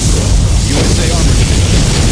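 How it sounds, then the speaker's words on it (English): A particle cannon fires in Command and Conquer Generals, a loud, sustained roaring boom that fills the whole stretch with dense rumbling blast noise. "Particle cannon activated."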